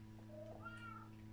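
Cat meows from Minecraft, two quiet drawn-out calls rising in pitch over a steady low hum of game background noise.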